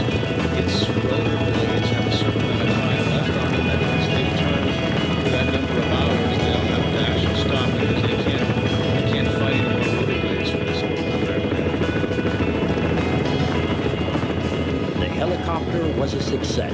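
A 1950s tandem rotor helicopter drones and thrums continuously and loudly in flight throughout, a dense steady roar with no breaks.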